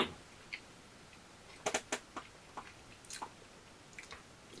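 Someone chews a burger close to the mic, with soft sporadic crunchy bites and mouth clicks spaced irregularly over a quiet background.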